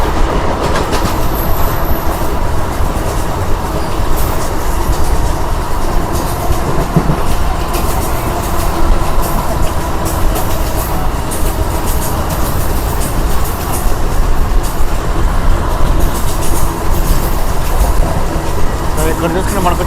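A MEMU express train on the Vijayawada to Tirupati run roars along at full speed, with a constant loud rumble and rattling wheel clatter heard from onboard, while a voice talks over it throughout.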